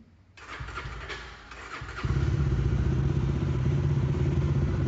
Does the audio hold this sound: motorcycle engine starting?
yes